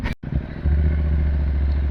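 Engine of a two-year-old Triumph Bobber 1200 motorcycle fitted with homemade exhaust baffles, a close, steady low rumble settling into an even idle after a brief cut-out.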